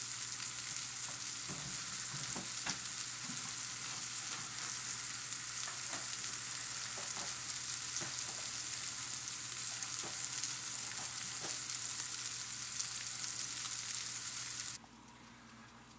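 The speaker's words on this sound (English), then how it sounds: "Now I've got the mushrooms on a low simmer." Mushrooms simmer in butter and olive oil in a pan, a continuous soft sizzle with occasional light stirring clicks and a low steady hum, cutting off abruptly near the end.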